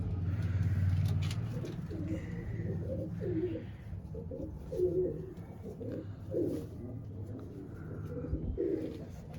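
Pigeons coo in soft, repeated rolling calls close by, with several cooing phrases spread through the stretch over a low background hum and no talking.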